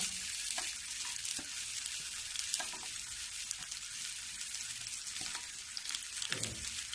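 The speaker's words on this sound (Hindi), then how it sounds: "जो प्याज मैं डाली हूँ इसको भी मैं थोड़ा सा भूंजूंगी।" Finely chopped onions fry in a pan with a steady, close hiss and crackle, broken by occasional soft stirring knocks against the pan.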